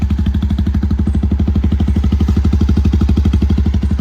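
A motorcycle exhaust idles loudly and steadily, a rapid, regular throbbing putter with no voices over it.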